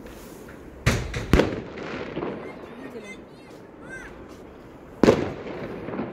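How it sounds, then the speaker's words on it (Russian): Fireworks and firecrackers bursting outdoors during New Year celebrations, with sharp loud bangs near the start, a double crack around one second and another loud burst later, over crackling and distant pops while a person speaks briefly. "Такие у нас красивые салютики пускают."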